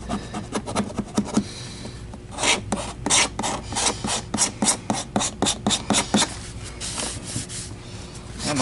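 Repeated rasping scrubs on the body of an Electrolux Guardian Aerus Model 134 vacuum cleaner, working off dried, crackly duct tape residue; close, fast rhythmic strokes in bursts, with no talking.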